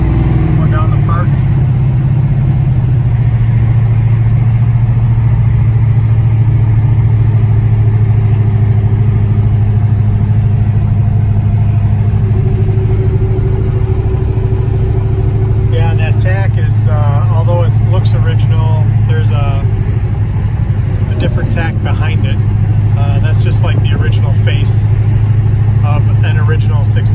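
A 1965 Plymouth Belvedere drives along with a steady, loud mid-range engine drone and road rumble throughout, while people talk over the engine.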